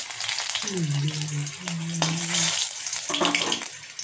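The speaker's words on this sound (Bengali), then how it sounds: "তেলটা গরম হয়ে গেছে, আমি কাঁচা লঙ্কা চিড়ে দিয়ে দিলাম। একটুখানি কালো জিরে" Green chillies and black cumin sizzle in hot oil, a steady close crackling hiss that carries throughout, with a faint tonal hum partway through and no talking.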